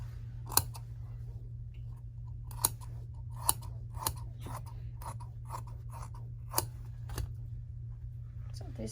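Scissors snip through a fabric pattern piece folded for cutting, a series of sharp, isolated clicks spaced irregularly over a steady low hum, close and fairly crisp.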